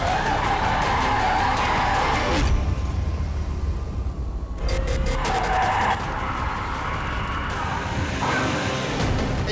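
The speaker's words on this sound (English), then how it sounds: "This is a drift beast like I've never been before." Tires on a Rimac Nevera electric car skid and squeal loudly as it drifts in drift mode, a long harsh screech that breaks off and resumes under the car's hum.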